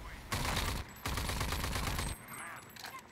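In Rage 2, two loud, sustained bursts of automatic gunfire go off close by, one short and one longer, with a gap between them, followed by quieter game sounds.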